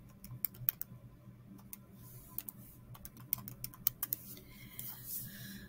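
Someone types a calculation on a keyboard, making quiet, close, irregular clicks in small clusters over faint room hum.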